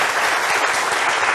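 An audience at a centenary lecture applauds steadily as a memento is handed to the speaker, a dense, even wash of clapping throughout with no voices over it.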